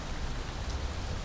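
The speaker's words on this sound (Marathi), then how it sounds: "पाऊस बघा" Steady monsoon rain in Sindhudurg pouring down on surfaces, a dense, even wash of drops, close and continuous with no voices.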